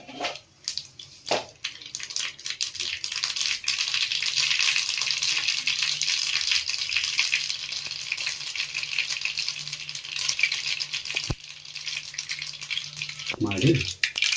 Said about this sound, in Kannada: ಎಣ್ಣೆ ಬಿಸಿಯಾಗಿದೆ, ಸಾಸಿವೆ ಹಾಕ್ಕೊಳ್ಳೋಣ.